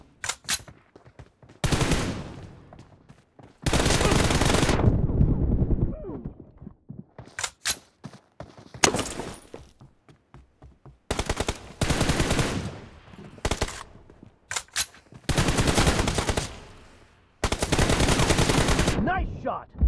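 Loud automatic gunfire from the battle-royale game BGMI in a team deathmatch, long sustained bursts alternating with short single shots and pauses, close and dominant throughout.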